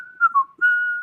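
A person whistles the A-Team theme tune, a clear, close melodic line of a few sustained and gliding notes, loud and alone without talking.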